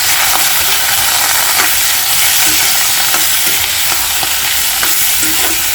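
Chicken pieces sizzle loudly in a pan over high flame, with steady frying hiss and repeated scraping stirs from a spoon throughout.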